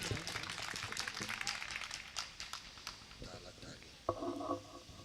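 Audience applause at a mushaira poetry recital, scattered hand clapping from a crowd for a few seconds that fades as the poet's voice resumes, with a brief knock near the end.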